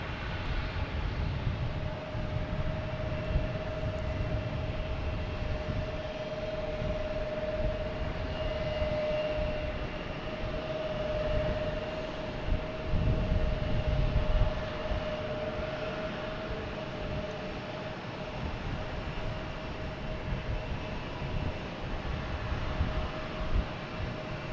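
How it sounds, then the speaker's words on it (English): A Delta Airbus A321neo takes off at Boston Logan Airport, a continuous loud jet engine roar with a steady whine running throughout, heard from a distance. "Next takeoff, we have a Delta A321neo heading to San Diego."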